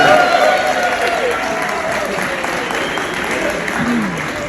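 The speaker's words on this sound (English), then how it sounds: "Can we give the red carpet team a big round of applause?" Audience applause for the red carpet team at the Peabody Memphis duck march, a dense, loud burst of clapping from a crowd that gradually eases, with a voice speaking over it.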